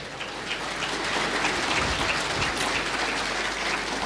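A church congregation applauds through a Quechua-language service, a steady dense wash of clapping that fills the whole stretch without a break, loud and even like rain on a roof.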